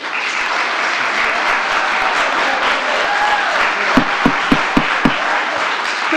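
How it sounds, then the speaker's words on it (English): A crowd at a Planning and Zoning Commission meeting breaks into sustained applause and cheering, a loud dense wash of clapping that holds steady for several seconds, with a few sharper individual claps near the end. "let's not waste time with applause and cheering"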